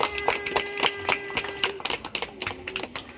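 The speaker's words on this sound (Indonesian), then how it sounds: "Kita beri tepuk tangan." Students in a classroom applaud a classmate's correct answer, a dense patter of rapid overlapping handclaps sustained for a few seconds at moderate volume.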